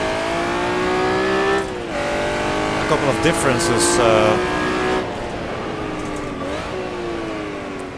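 Engine and road noise inside a Honda NSX while driving, a steady bright hum that rises and falls with gear changes, under someone talking throughout.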